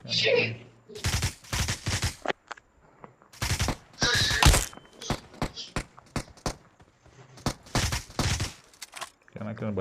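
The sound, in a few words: gunfire in PUBG Mobile video game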